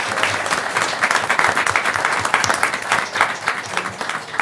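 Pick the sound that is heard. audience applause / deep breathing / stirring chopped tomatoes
audience applause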